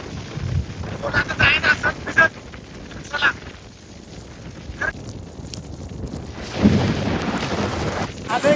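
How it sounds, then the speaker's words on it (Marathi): Heavy rain falls in Pune, a rough rushing wash with low rumbles, gusty microphone buffeting and bursts of nearby voices over it. "पाऊस पडतोय"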